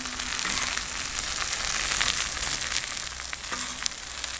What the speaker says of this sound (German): Den Speck lassen wir ebenso richtig schön angehen.